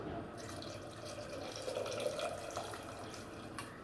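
Strained tea decoction pours in a steady, thin trickle close by, a continuous soft splashing stream with faint background noise.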